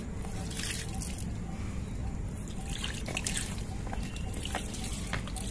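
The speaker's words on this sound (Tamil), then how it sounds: "கொஞ்சமாக தண்ணி ஊற்றினா போகிறோம்." Water is poured gently into a chilli plant pot, a small amount at a time, making a steady, soft trickle that runs throughout with no talking.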